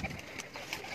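Pigeons cooing at a pigeon fancier's loft, soft repeated low coos close by over faint background noise.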